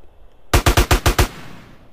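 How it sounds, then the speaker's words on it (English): Gunfire in GTA San Andreas, six rapid, evenly spaced loud shots in a quick burst followed by a fading echo, close and alone without talk. "Ah, the sound of shooting guns."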